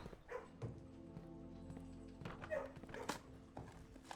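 Dog sounds from the video game Blue Prince, a few soft barks and whimpers scattered over a quiet, faint game background.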